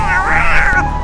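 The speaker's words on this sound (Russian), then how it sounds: "Опять эти коты орут, всю ночь спать не давали." A cat gives a single drawn-out, rising and falling yowl at night, close and loud over a steady low background hum, in a game featuring Siren Head.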